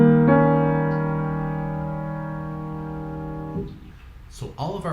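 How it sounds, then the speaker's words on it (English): A sustained German augmented sixth chord held for several seconds, then it fades and a voice begins speaking near the end. "the German augmented sixth uses that 3rd scale degree"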